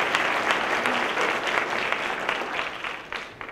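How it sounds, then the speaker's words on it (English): An audience applauds a high school honor band at a concert, steady loud clapping that fills the hall for a few seconds, then begins to fade. "Let's give them another round of applause."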